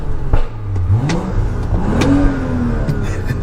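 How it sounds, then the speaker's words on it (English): An old-school BMW car engine revs up and down, pitch rising and falling in strong sweeps, loud and close, with a steady low rumble underneath. "someone else is revving it up"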